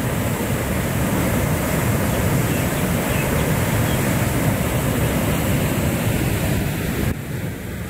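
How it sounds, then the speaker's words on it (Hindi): Loud, continuous rush of water flowing beneath a village bridge in Sahiwal, Pakistan, a broad roaring wash mixed with wind buffeting the microphone, steady throughout and dropping slightly near the end. "ये देखें जी पानी का कितना फ्लो है"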